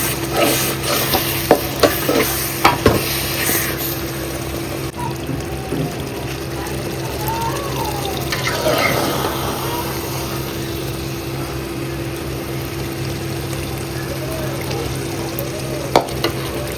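Madurai wedding-style pepper chicken fry is stirred in a pan, with a few sharp utensil scrapes and clanks at first, then a steady, even sizzle that carries on with little change.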